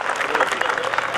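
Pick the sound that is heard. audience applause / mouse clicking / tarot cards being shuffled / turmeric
audience applause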